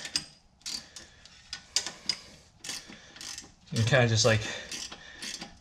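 A ratchet wrench on a 15 mm bolt during a rear brake job on a Mini Countryman, rapid clicking pawl strokes close by, mixed with short metallic knocks and someone talking briefly.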